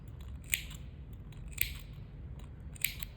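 Three crisp scissor snips clip the seam allowance around curves on a sewn fabric memory bear, evenly spaced about a second apart over a low steady background hum.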